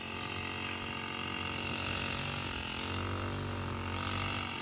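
A grass cutting machine spinning nylon wire runs steadily nearby, a continuous buzzing motor drone with a rough, mechanical rattle that stays loud and constant throughout.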